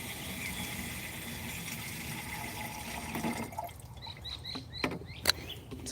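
JADAM microbial solution poured onto the ground, a steady splashing pour for about three seconds that then stops, leaving quiet outdoor air with birds chirping.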